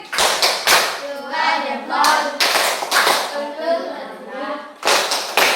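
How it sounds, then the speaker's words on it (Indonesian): A classroom of students claps a rhythmic patterned cheer in unison, sharp group claps arriving in short bursts with chanted voices between them, close and fairly loud. "Tepuk keren"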